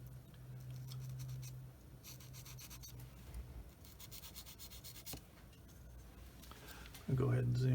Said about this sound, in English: So I'm going to use my 600 grit sander and gently sand that smooth.